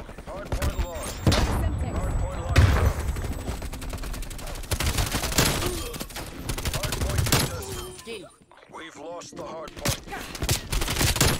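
Loud, sustained automatic rifle fire in Call of Duty Cold War, dense overlapping bursts and single cracks with a brief lull, mixed with game effects and a talking voice.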